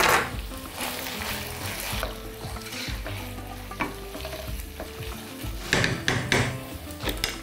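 Cauliflower browns in a hot pan, sizzling steadily while it is stirred, with scraping and clinks of a utensil against the pan at intervals.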